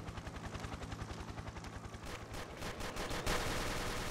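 Rapid gunfire from a first-person shooting game, Ace of Spades, fired in quick repeated bursts at close range, growing denser and louder toward the end with no talking.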